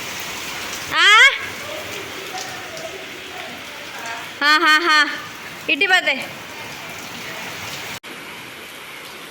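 Steady rain patters in the background throughout while a person speaks a few short bursts up close.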